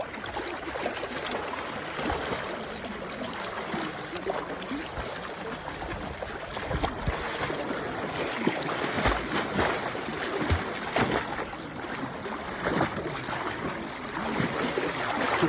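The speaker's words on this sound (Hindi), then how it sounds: "अब पानी को ऐसे हिलाओ" Water is splashed and churned by hand during a water-rescue demonstration with an inflatable tube, a continuous broadband sloshing and rushing, fairly steady and close.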